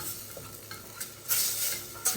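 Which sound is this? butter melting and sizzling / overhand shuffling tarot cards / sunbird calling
butter melting and sizzling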